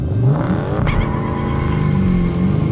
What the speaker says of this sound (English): I wanted to see if I could kind of launch it.